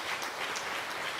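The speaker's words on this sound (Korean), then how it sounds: "우리 박수로 환영합니다" A church congregation claps in welcome during a Sunday worship service, a soft, steady patter of many hands heard at a distance with no talking over it.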